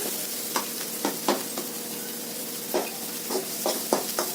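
Ginger-garlic paste sizzles steadily in hot oil as tempering for gobi manchurian, with a few soft scraping stirs at irregular moments.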